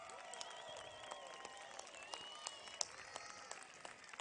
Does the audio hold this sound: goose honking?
no